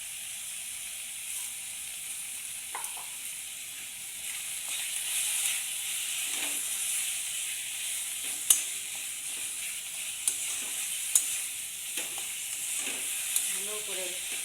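Spices for a mutton curry, including turmeric and a little black pepper powder, are stirred and mixed in a pan, giving a soft, steady sizzle with occasional faint scrapes and clicks from the spoon.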